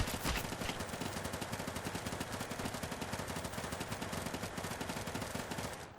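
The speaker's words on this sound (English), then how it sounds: "Can we decapitate the head by shooting it over and over?" Rapid, sustained gunfire from the VR shooter Hard Bullet, a dense stream of evenly spaced shots pounding away without pause for the whole stretch, loud and close with no talking.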